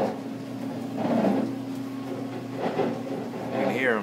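Dryer vent cleaning equipment clearing lint from a house's side vent, a steady mechanical whir and hum with intermittent rattling bursts and a rising whine near the end.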